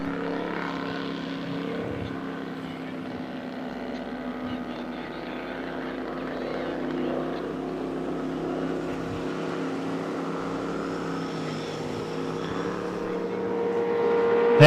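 Racing powerboat engines on water at a speed race off Geelong, a steady, droning high-pitched roar that holds across the whole stretch and swells slightly louder toward the end, with commentary over it.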